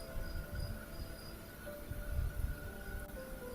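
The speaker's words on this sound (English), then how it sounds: "That is crickets." Crickets chirping indoors in a basement in Michigan, a steady faint high trill running continuously beneath low rumbling background noise, no talk.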